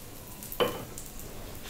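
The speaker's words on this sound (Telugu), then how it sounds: "ఇప్పుడు ఈ తాలింపుని ఆనియన్ చట్నీ మీద ఇలా యాడ్ చేస్తున్నాను." Hot tempering poured over a burnt onion and coconut chutney gives one short, sharp sizzle that flares and quickly fades into quiet kitchen background.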